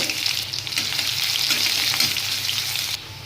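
A whole onion frying in mustard oil with black cumin seed and dried red chilli in a kadai, giving a steady, close hiss of sizzling oil with no talk.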